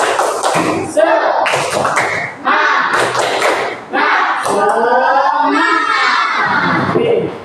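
A classroom group claps a rhythmic spirit-clap chant, loud and close, with bursts of clapping and shouted chanting in repeated patterns and brief pauses between phrases.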